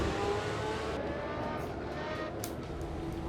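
A McLaren Senna accelerating through S-curves: a loud, steady engine drone heard from inside with a brief dip as the throttle is lifted, no speech.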